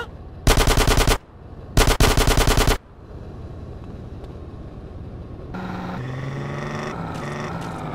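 Two loud, close bursts of rapid automatic gunfire in GTA San Andreas, each lasting under a second, followed by a lower rumble of traffic and engine drone.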